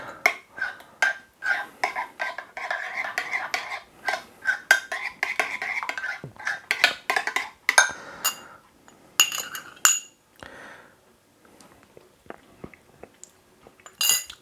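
A spoon stirs prawn cocktail sauce with paprika in a bowl, producing rapid repeated clinks and scrapes against the dish that slow and thin out toward the end, close and clear with no voices.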